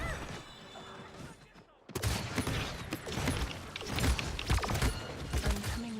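Rapid turret gunfire from an Overwatch match, loud dense bursts of shots and mechanical clatter erupting after a brief lull and continuing steadily.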